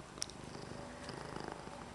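A cat purrs softly and very close, a low, steady rumbling vibration with faint rhythmic pulses and a small click near the start.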